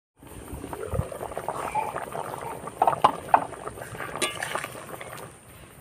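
Taro and fish curry simmers under a lid in a cooking pot, giving a steady, moderate bubbling hiss with scattered soft pops and clicks throughout.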